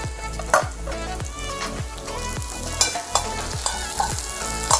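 Chili and vegetables are stir fried in a pan for sweet and sour fish, a steady sizzle with repeated stirring scrapes and a few sharp knocks, set against rhythmic background music.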